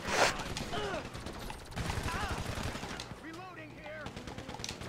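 Rapid automatic gunfire in the video game GTA 5 Online rattles in several bursts, moderately loud, with a few short crackling shots between them and voices talking faintly beneath.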